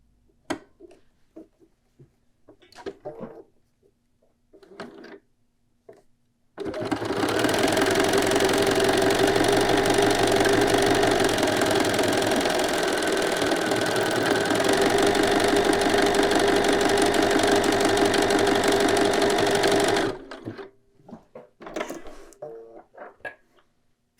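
A domestic sewing machine stitching buttonholes runs steadily for about thirteen seconds, loud and close, with a continuous mechanical whir. Quiet handling noises come before and after it.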